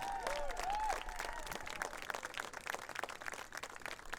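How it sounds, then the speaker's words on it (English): Audience applause at an annual concert, heard as fairly faint clapping, with a brief tonal whistle or cheer near the start. "why don't we have a round of applause for these young ladies and gentlemen out here"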